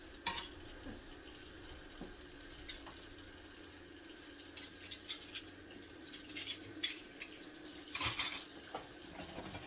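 Spoons clinking at a kitchen sink while dishes are washed by hand, scattered light metallic clinks and clatters over the soft continuous wash of water, quiet and close.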